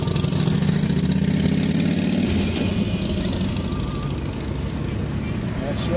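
A motorcycle engine runs nearby at a steady idle, a loud low rumble that stays constant throughout, with voices talking over it.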